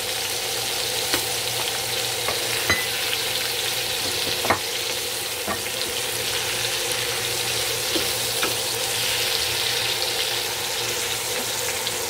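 Onion and sauce sofrito sizzling and frying steadily in a pan for spaghetti with longaniza, a continuous close crackling hiss with occasional sharp pops, no voices.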